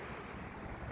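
Sea waves break on a sandy shore in a steady, faint wash of surf mixed with wind rumble on the microphone, with no voices.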